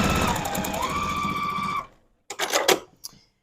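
A sewing machine stitches a quilt block seam in a loud, fast continuous run, stops, then gives a few short bursts of stitching.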